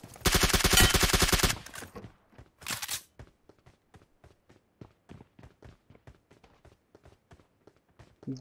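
An M4 rifle in the video game PUBG Mobile fires a dense, loud burst of automatic gunfire, followed by a second short burst and a trail of faint clicks and steps.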